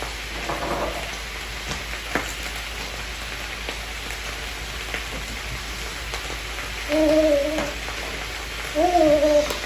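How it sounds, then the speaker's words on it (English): Vegetables sizzle steadily in a pan with a constant crackling hiss, while a faint voice briefly murmurs near the end. "Can y'all hear those vegetables"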